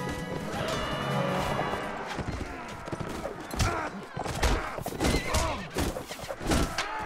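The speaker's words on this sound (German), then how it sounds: "So, hörst du auf, nach meinem Pferd zu schlagen?" In the Mount and Blade: Warband video game, a horse is struck and neighs amid loud crashing hits and clattering hooves. The impacts come in bursts close up.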